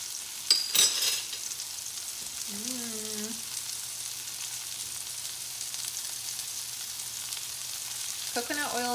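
Chicken nuggets fry in shallow oil with a steady soft sizzle throughout, broken by a few louder crackles and spits near the start, and a voice speaks briefly over it.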